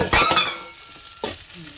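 Spices with a little ginger paste frying in a hot pan, with a loud burst of sizzle and stirring at the start that settles, then a second scrape and hiss near the end.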